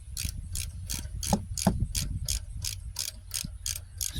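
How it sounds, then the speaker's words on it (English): Ratchet tightening a bolt during rear hub bearing work on a 2006 Dodge Grand Caravan, giving a steady run of about a dozen crisp, close clicks in even rhythm over low background rumble. "Spin this bolt back in real quick."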